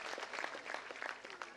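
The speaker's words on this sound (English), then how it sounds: "I request you to give a round of applause for getting ninth international rank by a small kid." A round of applause from the audience at a school annual function, faint and distant, with a continuous patter of many hands over a low murmur.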